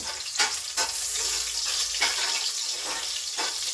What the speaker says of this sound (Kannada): ಇವಾಗ ಬಂದು ಈರುಳ್ಳಿ ಮತ್ತು ಒಂದೇ ಒಂದು ಬ್ಯಾಡಿಗೆ ಮೆಣಸಿಗೆ ಹಾಕ್ಕೊಂಡಿದ್ದೀನಿ ಒಗ್ಗರಣೆಗೆ